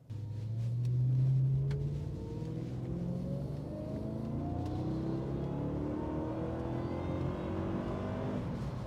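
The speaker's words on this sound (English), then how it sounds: "When you put your foot to the floor, you can hear a bit of belt whine" A supercharged V8 car, a Jaguar XJR or Mercedes CL500, accelerates hard at full throttle, its engine rising in pitch with a faint supercharger belt whine climbing above the rumble, heard from inside or close by.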